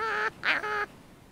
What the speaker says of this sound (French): Ma mouette est là.